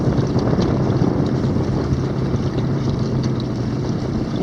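Strong northeast wind blowing over a fishing boat on Bayou Bienvenue, a steady loud roar of wind buffeting the microphone, with low rumbling gusts throughout and no voices.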